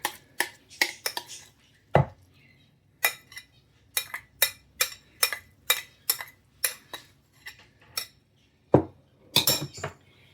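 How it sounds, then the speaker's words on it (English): Spoon scraping and clinking against a bowl while corn salad is stirred together with dressing, a steady series of sharp, close taps and clicks repeated roughly every half second, with no talk. "And give that a stir."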